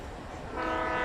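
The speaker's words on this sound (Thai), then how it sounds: "รถไฟเสียงรถไฟ" A video game train horn blares steadily, growing louder halfway through over a low rumbling backdrop.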